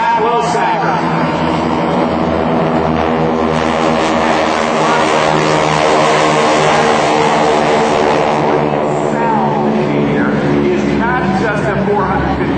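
Loud, continuous droning roar of several 450-horsepower propeller aircraft engines at about 2,500 RPM passing overhead in Red Baron Squadron formation flight, a thick buzzing hum with voices talking underneath throughout.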